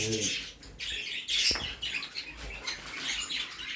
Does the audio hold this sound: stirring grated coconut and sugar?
no